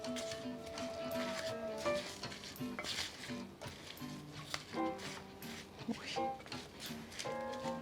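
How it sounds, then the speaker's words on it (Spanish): Chicken salad with mayonnaise, thyme and parsley being stirred in a bowl, a steady run of soft scraping and wet mixing sounds with occasional clinks under light background music. "Y vamos a revolver."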